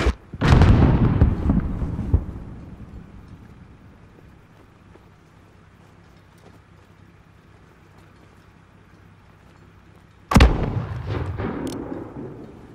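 Mortar fire in Call of Duty: Modern Warfare, two loud booming blasts a few seconds apart. Each is followed by a rumbling decay, with a quieter stretch between them.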